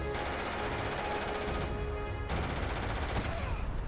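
Rapid automatic gunfire from the Starfield video game rattles steadily and fairly faintly, breaking off briefly once before the shooting resumes.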